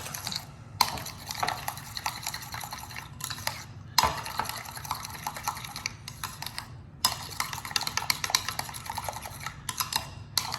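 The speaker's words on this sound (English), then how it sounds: "There we go, mix it together." Seasoning is mixed into food on a Blackstone flat-top griddle for a Cajun brunch burger. A metal spatula scrapes and clinks close by in irregular strokes with brief pauses.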